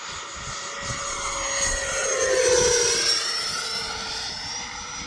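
An E-flite F-16 RC jet with a 90mm electric ducted fan runs at just over half throttle, a steady airborne whine that swells as it passes closer and then fades slightly, with no talk.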